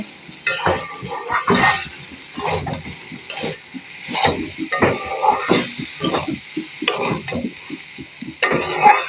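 Onion, garlic and cumin frying in a pan, stirred with a utensil in rapid repeated scrapes and light clinks over a moderate sizzle, close and fairly loud; no one speaks.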